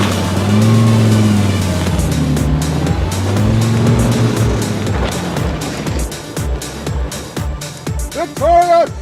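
A 2013 Volkswagen Beetle and Eos convertible accelerate from a standstill on snow. Loud, close engines rev with rising and falling pitch, and sharp clicks and brief squeals come through before the sound fades into a voice at the end.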